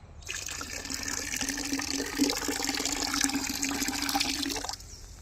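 Water runs steadily into a container to mix a crop spray product for a mango orchard. It is a continuous pouring and filling rush lasting several seconds, then it stops abruptly near the end.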